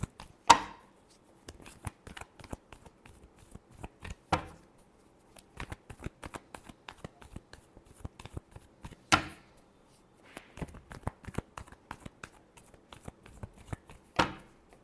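Tarot cards are shuffled by hand, giving a quiet, close series of soft riffles and sharp flicking taps spread irregularly, with a few louder snaps.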